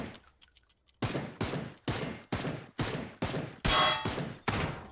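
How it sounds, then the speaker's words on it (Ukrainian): Rifle fire at targets in the video game PUBG: about eight sharp, loud shots in an evenly spaced sequence, each with a short echoing tail, after a brief quiet start, with no talking. "Постріляли тут по мішеням."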